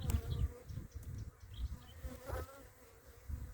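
Honeybees buzz close by around a hive in a continuous, wavering drone, with individual insects swelling louder as they pass near.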